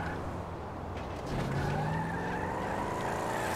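In the video game GTA V, a car engine revs hard while tires squeal and skid, a loud steady roar with a rising whine that carries on without a break and with no talking.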